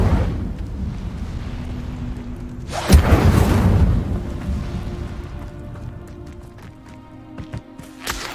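A fire spell cast in Hogwarts Legacy bursts out as a loud roaring whoosh about three seconds in, then crackles and fades, with a few faint sharp ticks near the end. No one speaks.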